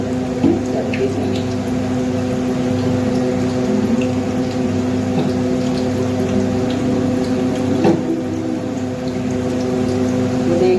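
Water filling from a tap indoors, a steady pumping, splashing flow with a tonal hum running throughout, loud and continuous with a few faint clinks.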